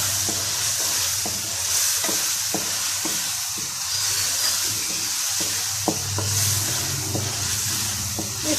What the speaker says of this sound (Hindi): इसको मैं 2-3 मिनट तक मसाले में फ्राई करूँगी